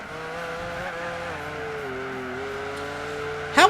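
A race car engine drones steadily in Gran Turismo 4 during an endurance race, with a sustained tonal whine that shifts pitch gently as the car runs, ending in a sharp brief squeal.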